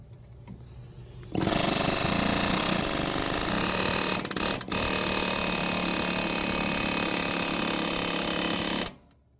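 Pneumatic air hammer pounding on a rusted clutch bolt of an Allis Chalmers 180 tractor, a loud continuous rapid rattling burst lasting several seconds with a brief stutter midway, then cutting off abruptly.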